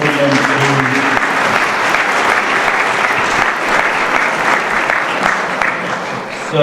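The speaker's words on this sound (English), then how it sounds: "let's give these guys a round of applause" Audience at a panel discussion claps in sustained, dense applause that fills the room evenly, with a few voices mixed in and a slight fade near the end.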